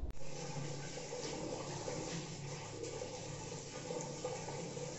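At a school's Earth Week event, water gushes steadily from a tap left running to waste, a continuous close splashing rush with no pauses and no talking.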